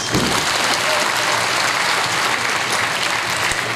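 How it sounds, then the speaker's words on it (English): A full hall of graduation-ceremony guests clapping steadily at a business school commencement, a continuous wash of applause that starts abruptly and holds at an even, loud level. "Let's give a much-deserved applause to our family and loved ones."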